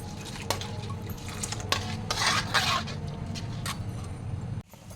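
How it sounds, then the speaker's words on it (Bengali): Fried vermicelli goes into a pot with scattered clinks of utensil on metal and soft scraping and rustling, a few sharper taps standing out over a low steady hum. "এবার আমি সেমাইটা যে ভেজে রেখেছিলাম সেমাইটা দিয়ে দিলাম"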